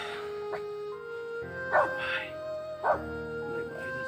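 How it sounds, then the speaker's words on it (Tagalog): A dog gives a few short barks and yips at spaced intervals over a steady tonal background hum, moderately close. "May aso."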